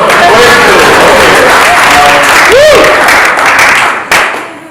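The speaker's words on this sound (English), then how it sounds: "Oh, I can have an applause." An audience applauds at a talk in Belgrade, loud sustained clapping with a voice cutting through briefly and a rising whoop, then the applause fades out near the end.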